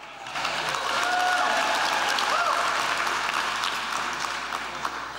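Audience applause at a benefit gala in New York, with a full, steady patter of clapping swelling in after a brief quiet start and sustained to the end, with a few faint calls over it.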